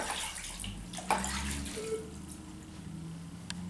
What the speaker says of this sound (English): Now we'll take and wash that off with water.